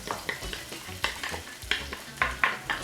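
Chopped red onions sauté in oil for a Nigerian jollof spaghetti, giving a steady close sizzle broken by repeated sharp scrapes and clacks of a utensil stirring the pan, with no talking.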